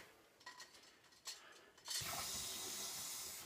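Water from a homebrew wort chiller hose sprays and splatters loudly and steadily after a few faint clinks and bumps.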